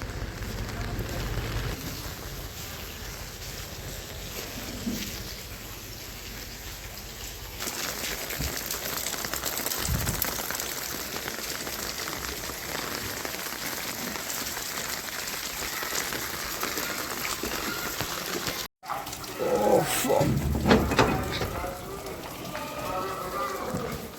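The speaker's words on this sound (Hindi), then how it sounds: "जब से लगा बारिश बंद ही नहीं हो रही" Steady rain patters and hisses across a wet outdoor scene after days of continuous rain, with water running through drains, occasional voices in the background and a brief louder burst near the end.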